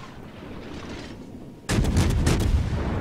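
Naval gunfire in the World of Warships video game, a sudden loud salvo of several booming shots piled closely together that breaks out after a quieter stretch of ambient rumble.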